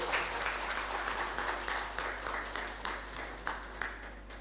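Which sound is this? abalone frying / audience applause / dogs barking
audience applause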